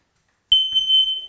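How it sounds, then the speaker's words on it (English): A new smoke detector in a renovated basement sounds its test alarm, a piercing steady electronic tone starting abruptly and holding loud and close. "Oh, new smoke detector."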